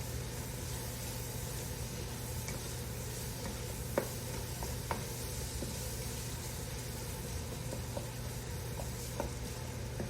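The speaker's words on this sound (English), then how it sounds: "So I've had my onions in here and they're getting cooked. Just stirring them around." Onions sauté quietly in a pot for a loaded potato soup, a soft, steady sizzle with occasional light taps of a spoon stirring, faint and even throughout.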